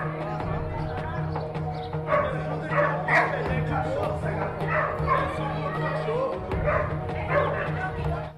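A pitbull and a street dog bark and yelp repeatedly in agitated bursts while fighting, mixed with whimpers, shouting voices and children nearby over a steady engine hum.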